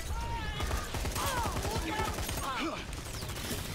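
Shotgun blasts and chaotic combat effects in the Lawbreakers video game, a busy spread of shots and whooshing sounds at moderate loudness mixed with other game noise.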